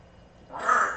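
A small pet bird gives one sharp, fairly loud call close by, rising out of near silence in the second half.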